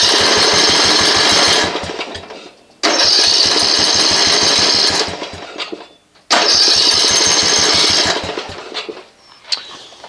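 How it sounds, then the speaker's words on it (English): A Snapper rear-engine riding mower's gas engine cranks over in three long, loud bursts of rapid rhythmic chugging, each cut off by a short pause, never catching and running. "The mower won't start."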